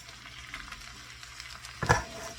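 Shredded cabbage sizzles quietly in a pan, a low crackle broken by a few light stirring scrapes and a sharper clatter near the end.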